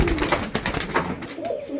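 Pigeons coo in a soft, continuous run of low throaty calls with a few louder bursts, close by and alone, from a group of four pairs kept for sale.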